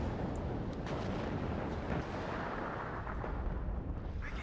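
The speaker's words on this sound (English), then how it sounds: "Any of these tanks we're going to hit with some artillery as well if they're standing still." Artillery fire landing on tanks in the video game WARNO, a steady, rumbling barrage of distant blasts and bursts layered into a continuous low roar.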